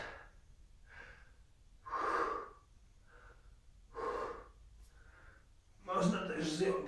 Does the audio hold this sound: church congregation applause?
no